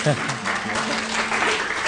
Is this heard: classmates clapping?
yes